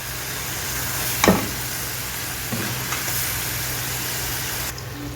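Kofta fries in a pan with a steady, close sizzle that carries on throughout, marked by a few faint pops and clicks.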